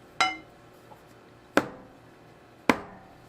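A cake pan lined with parchment and filled with sweet potato cake batter is knocked against a hard surface three times, giving sharp, evenly spaced taps about a second apart, close and distinct in a quiet room.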